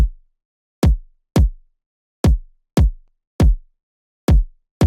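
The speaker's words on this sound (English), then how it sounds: "With effects, it sounds tighter and punchier." Processed drum and bass kick drum with effects, tight and punchy: eight loud, deep, sharp thumps in an uneven groove, each with a fast attack and quick decay into silence.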